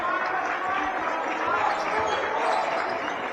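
Team bench players clapping from the sideline during a high school basketball tournament championship game, a steady broadband patter of hands mixed with gym crowd noise and a play-by-play commentator talking over it.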